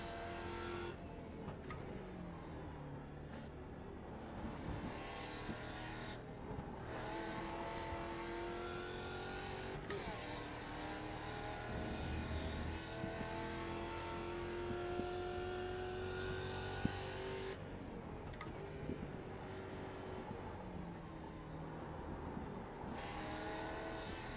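A race car laps Imola on a full tank of fuel and new tyres in the Automobilista (AMS) racing game, its engine droning continuously with rising and falling pitch through gear changes.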